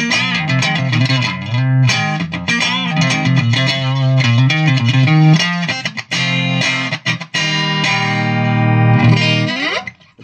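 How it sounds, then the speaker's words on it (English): An electric guitar plays through a Fender Mustang II modeling amp set to a British 80s style tone, loud and distorted, with chorded riffs and sustained ringing notes ending in a bending, swelling chord. "All right. British 80s style."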